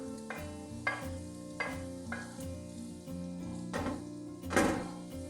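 Sliced leeks and carrots stirred in a hot pan for string hopper fried rice, a constant sizzle broken by regular knocks and scrapes of the spatula against the pan, set over a faint tonal backdrop with no speech.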